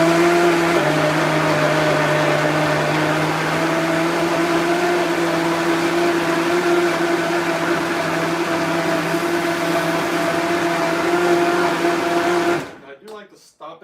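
A blender chops ingredients with a loud, steady whirring drone and a slight pitch shift near the start, then cuts off abruptly near the end, leaving a few faint clatters.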